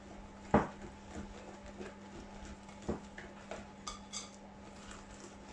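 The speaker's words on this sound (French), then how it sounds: "Donc on mélange tout doucement." Chocolate mascarpone cake batter folded gently in a bowl, soft scraping broken by a few sharp clinks of utensil against the bowl, quiet and close.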